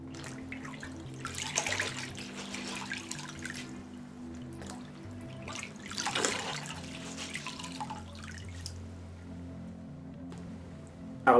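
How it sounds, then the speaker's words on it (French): Tap water runs steadily into a sink while a face is rinsed, with louder splashing surges as the hands bring water up, close and without speech. "j'en profite pour bien rincer mon visage"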